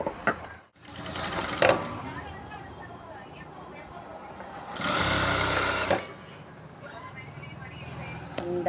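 Sewing machine stitching fabric for a halter neck blouse, whirring in short runs with a longer, louder burst midway, close and separated by quieter handling of cloth.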